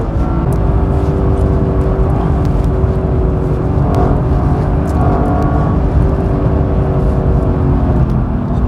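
Lexus LC500 coupe accelerating hard on a racing circuit in Sport Plus mode, with a steady, loud engine drone and whir that holds close throughout, without speech.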